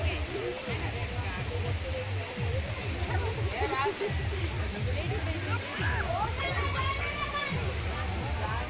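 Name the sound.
Khandadhar waterfall flowing down the hill, Keonjhar, Odisha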